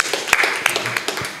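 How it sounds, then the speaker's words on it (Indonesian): Scattered audience clapping for a guest on an Indonesian football talk show, individual claps sharp and irregular, with several distinct louder claps standing out from a thin background of applause. "Tepuk tangan buat Aki Massive."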